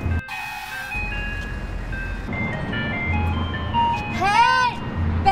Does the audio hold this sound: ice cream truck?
yes